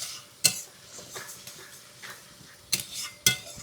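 Lote fish being stirred with salt and turmeric in a pan, soft scraping and shuffling broken by a few sharp metallic clinks of the utensil, close and quiet, with no talking.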